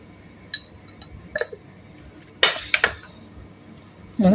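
A utensil clinks against a bowl while chicken marinade is stirred, a few scattered scrapes and knocks separated by quiet gaps, close and without talk.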